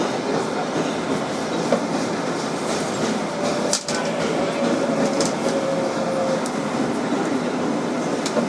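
A Kawasaki R188 subway train runs as a 7 Flushing local, with a steady close rumble and rattle of cars on the rails throughout and a brief squeal partway through.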